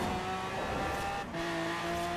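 A roughly 1,900-horsepower Lamborghini Aventador Forza Edition drift build in Forza Horizon 4, its engine holding a loud steady high-revving whine with tonal harmonics and a brief dip mid-way, tire noise underneath, no talking.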